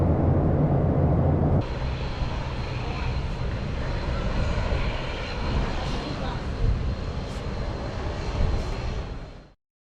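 A passenger airplane bound for Brisbane roars continuously on its takeoff run, a loud steady engine drone with a high whine that holds for about nine seconds before cutting off.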